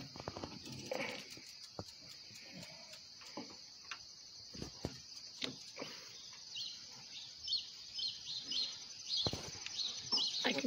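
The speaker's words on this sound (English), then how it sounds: "I can hear birds this morning." Birds chirp and sing on a chilly, foggy morning, with scattered calls rising and falling at a moderate distance over a quiet background.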